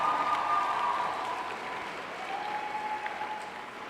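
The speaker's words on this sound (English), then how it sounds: "A round of applause, please." Students and staff applaud their teachers at a school's tenth anniversary celebration, a broad, even wash of clapping that slowly tapers, with a faint tone running beneath.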